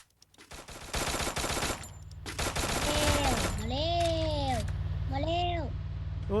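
Gunfire in the mobile battle royale video game Free Fire, rapid automatic bursts of shots near and loud, continuing under excited voices talking.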